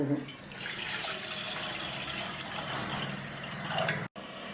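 Water runs steadily into a pot heating on a gas stove for a few seconds, a close, continuous splashing pour that stops abruptly near the end.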